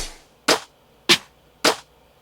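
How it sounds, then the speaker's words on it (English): Three sharp, crisp snare drum hits evenly spaced about half a second apart, loud and dry with quick decay. "I like that snare."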